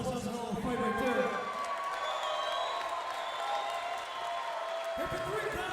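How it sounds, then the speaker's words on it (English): An audience after a fight decision at a K4 Fighting event breaks into applause and cheering, a dense clapping wash that fades out toward the end, with an announcer's voice carrying over it. "let's give them one more round of applause"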